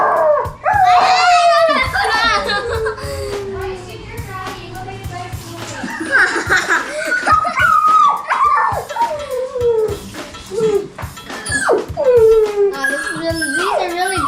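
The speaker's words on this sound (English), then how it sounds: "These are really good dog sound effects." Dog sound effects are played as a prank on a dog, a run of howls, whines and barks with rising and falling pitch, loud and close, mixed with people talking and laughing.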